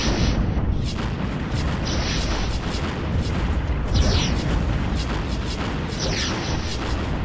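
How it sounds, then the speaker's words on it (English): Anubis super weapons fire in the Stellaris Stargate: Utopia mod, a relentless barrage of heavy booming blasts and artillery-like explosions, loud and continuous with sharp repeated bursts throughout. "those Anubis super weapons just look amazing going through"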